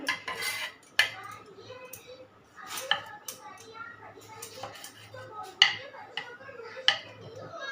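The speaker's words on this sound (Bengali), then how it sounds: "এইভাবে করে কেটে নিচ্ছি সব টমেটো" A knife cuts through tomatoes, making a run of sharp, irregular clicks and taps against a hard surface, close by, with quieter rustling between the strikes.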